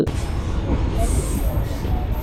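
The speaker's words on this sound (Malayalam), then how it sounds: "അങ്ങനെ ട്രെയിൻ ഇങ്ങനെ മുമ്പോട്ട് എടുത്തു തുടങ്ങി" A second-class passenger train starts moving slowly forward, producing a steady, close, low rumble from inside the carriage.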